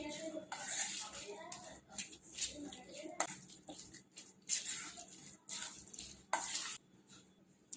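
A spoon scrapes and swirls through thick batter in a pan in repeated bursts, with some muffled voices in the background.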